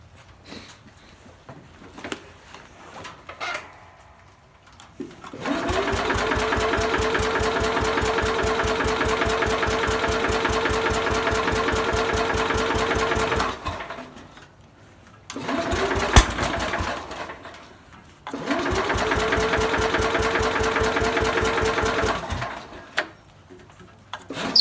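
A 1968 Sears Super 12 engine is cranked repeatedly in a hard start: three long rattling, whirring cranking bursts separated by quiet gaps, with faint clicks and shuffling between attempts.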